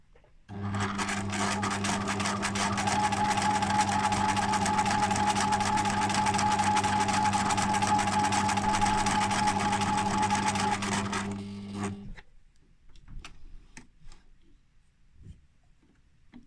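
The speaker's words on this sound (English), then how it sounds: "I'm going to start in a corner and begin sewing" A sewing machine stitches a reverse appliqué, a loud steady motor hum with rapid needle chatter running nonstop for about eleven seconds before stopping, followed by faint handling noises.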